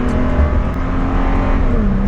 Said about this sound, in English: this thing still gets up and goes to get onto the highway